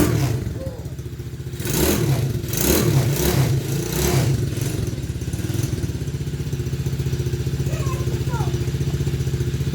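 A children's ATV engine keeps up a steady mid-pitched drone with clattering surges as it accelerates, close by and loud, with people talking over it.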